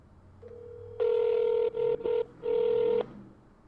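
A telephone call rings out in repeated tonal pulses, a long burst followed by shorter broken ones, clear and fairly close with no talking over it.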